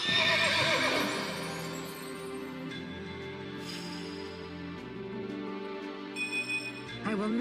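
A horse in the video game Fire Emblem Echoes whinnies loudly over game music, a single shrill neigh up front followed by a short stretch of clip-clopping hooves.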